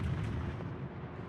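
Naval gunfire in a warship video game, a loud rumbling artillery boom that trails off in a low, heavy roar, with no voices over it.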